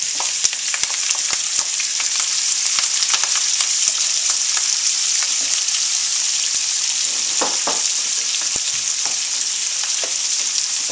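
Onions, peppers and herbs frying in olive oil for a garden ratatouille give a steady, close sizzle, broken by frequent sharp clicks and scrapes of a spoon stirring the pan.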